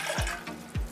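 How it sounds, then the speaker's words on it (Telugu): Water poured from a glass into a pot for ragi malt makes a short, soft splashing gurgle with two low glugging pours, close and without talk. "రెండు గ్లాసుల నీళ్లు"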